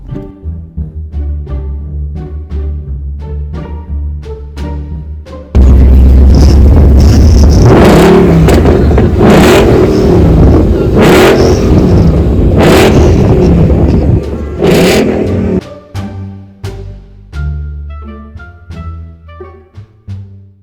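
Ford Mustang V8 pulling away, the engine revving hard in a loud sustained burst with rising and falling throttle pulses, then settling back to a lower rumble.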